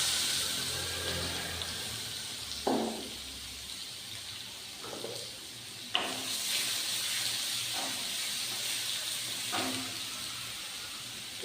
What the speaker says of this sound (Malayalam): ഇനി നമുക്ക് ഇഞ്ചി വെളുത്തുള്ളി ചതച്ച് വെച്ചിരിക്കുന്ന ഇട്ട് കൊടുക്കാം.